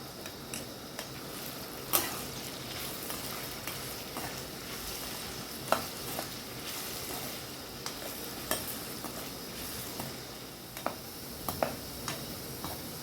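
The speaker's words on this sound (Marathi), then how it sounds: "आलू तळताना थोडी हळद आणि थोडं मीठ।" Potatoes frying in oil with turmeric and salt for a Maharashtrian chawli bhaji give off a steady close sizzle, broken by occasional sharp clicks and stirring taps.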